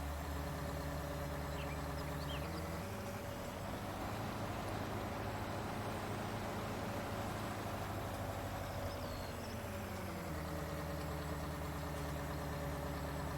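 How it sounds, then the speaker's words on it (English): Tractor engine in Farming Simulator 19 running at a steady idle, a low droning hum with a slight rise in revs midway before settling back, faint and with no voices. "Start the tractor."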